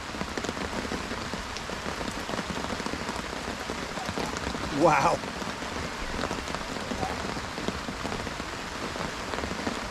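A downpour keeps falling on an old mill fishing lake, a constant close patter and hiss, with a brief exclamation from a man partway through.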